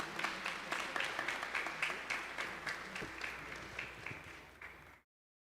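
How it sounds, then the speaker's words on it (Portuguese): A church congregation applauds during a homily, a steady round of clapping from a group that holds evenly before stopping abruptly. "Uma salva de palmas."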